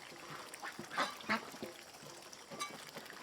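Ducks on a rural Vietnamese farm give a scatter of short quacks and honking calls, several close together near the start and another burst later, fairly faint over quiet outdoor background.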